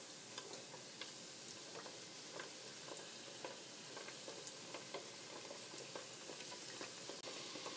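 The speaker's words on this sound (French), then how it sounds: "Nous allons plonger délicatement nos beignets dans l'huile." Carnival beignets fry in hot oil, making a faint, even sizzle with scattered tiny ticks and pops throughout and no voices.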